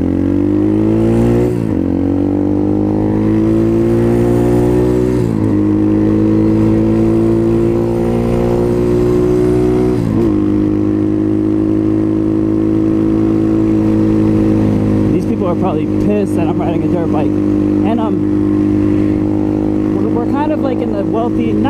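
A 2019 Apollo 250cc Chinese dirt bike ridden at top speed, its engine droning loud and close with rising revs and a few quick gear shifts; a voice speaks over the engine near the end.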